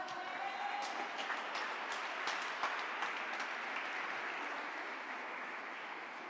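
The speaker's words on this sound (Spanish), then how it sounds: "Dale ese aplauso a papá." Steady audience applause at a Spanish-language televised event or church gathering, a dense wash of clapping hands that stays loud and even throughout, with no distinct voices rising above it.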